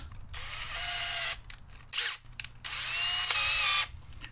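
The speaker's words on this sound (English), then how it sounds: "We'll use our screwdriver to pull them out." A power screwdriver backs out Torx 40 bolts from a swivel seat base in a RAM Promaster 2500 van, in two sustained whirring bursts separated by a brief pause and a short clank, close and loud with no talking.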